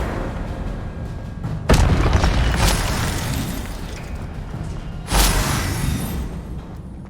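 A fire spell cast in Hogwarts Legacy on PS5 lets off two loud whooshing bursts, one near the start and another toward the end, each swelling and then fading away.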